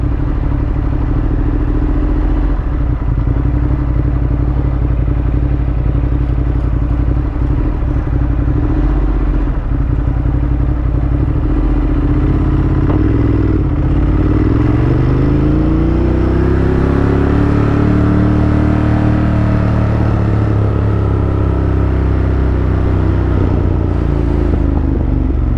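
A Ducati Monster motorcycle riding across town, its engine loud and close throughout, with steady droning, rising and falling revs as it accelerates and shifts.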